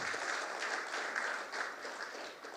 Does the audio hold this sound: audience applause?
yes